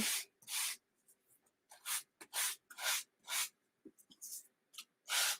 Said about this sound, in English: just sand that off